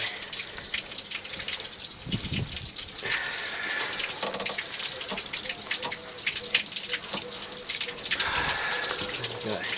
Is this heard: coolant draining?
yes